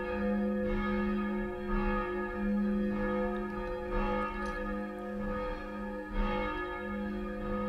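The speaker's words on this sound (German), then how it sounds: "wird täglich um 12 und 18 Uhr zusammen mit den zwei anderen im kompletten mittelalterlichen Dreiklang geläutet" Medieval church bells ring together as a full three-bell triad, their overlapping strokes swelling and decaying in a steady, sustained peal with no voices.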